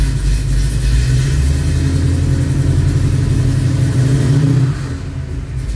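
A 1967 Ford Mustang engine revs steadily at a loud, close, mid-pitched drone as the clutch is let out, then drops in level near the end.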